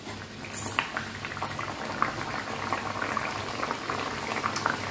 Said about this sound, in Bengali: নেক্সট আরও একটা ভাজি।